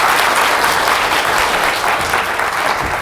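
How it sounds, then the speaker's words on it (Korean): A conference audience at PyCon APAC 2016 gives a speaker steady, loud applause, with dense clapping sustained for the full stretch and no talking over it. "큰 박수 부탁드립니다."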